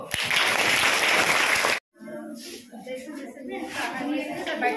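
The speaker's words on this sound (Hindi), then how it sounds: "ताली बजा दो।" Students and staff clap together at a Class 8 school farewell ceremony, a dense burst of applause that fills the first couple of seconds and stops abruptly, followed by background chatter and voices.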